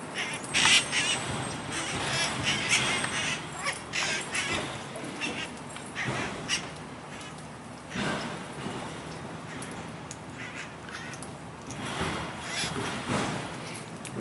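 Wild parrots call outdoors among seed-bearing trees in Fort Lauderdale, Florida, giving repeated harsh squawks and chatter at moderate distance over steady ambient noise, with no talking.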